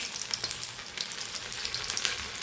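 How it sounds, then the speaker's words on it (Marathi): Semolina-coated fish pieces sizzle steadily in hot oil, a dense continuous crackle with small bursting pops throughout, close and fairly loud with no voices. "तेल पण चांगलं तापलंय मासे आता चांगले शिजल्यात"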